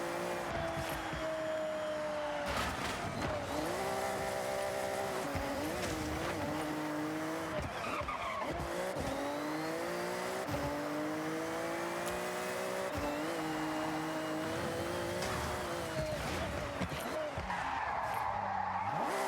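A Toyota Supra in a racing video game revs and shifts through gears with repeated engine sweeps and tire squeals, loud and continuous beneath people talking.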